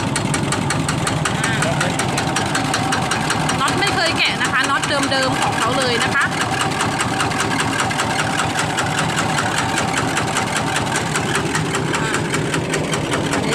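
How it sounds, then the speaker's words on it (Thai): A stock Kubota RT110 engine idles steadily, a constant close, loud knocking chug running throughout while someone talks over it. "ติดเครื่องกูต้า RT 110ให้ดูเนาะ"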